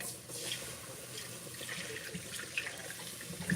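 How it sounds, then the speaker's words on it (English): Water runs steadily from a tap or is poured into a pan of gravy during home cooking, a continuous soft hiss and splash with a few small clinks, fairly quiet and with no talking. "I'm about to put my water in here now so the gravy won't burn."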